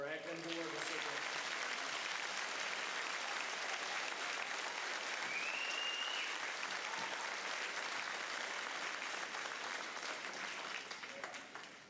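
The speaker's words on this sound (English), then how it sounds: "Let's have one more round of applause for our academic award recipients." Sustained audience applause at a high school academic awards assembly, a full steady round of clapping from a large crowd that fills the whole stretch and tapers slightly at the end.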